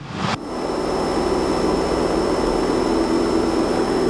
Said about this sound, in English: And we have liftoff, landing gear coming up.